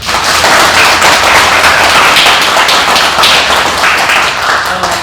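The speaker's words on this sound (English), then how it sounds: "Let's give a round of applause for Sensei." A group gives a round of applause for their Sensei after a training session, steady dense clapping holding loud and even for the full five seconds.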